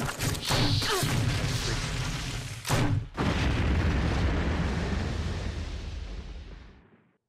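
A canister blowing up in the video game Resident Evil, a loud heavy explosion followed by a long rumbling roar of debris that slowly fades away.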